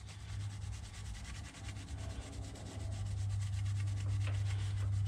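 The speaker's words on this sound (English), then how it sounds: "go with the grain of the aluminum and just get a good scuff to get some of the oil and stuff build up on it" A Scotch-Brite pad scuffs an aluminum aerospace brake part along the grain, giving a soft, continuous close-up rubbing over a low steady hum.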